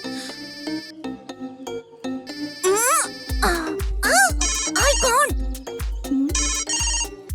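A phone ringtone plays a repeating electronic melody of warbling tones, fairly loud and close, with a voice briefly heard near the start.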